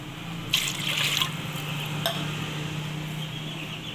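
Water pours into a cooking pot holding chicken, a short splashing burst followed by a few fainter drips and clinks nearby.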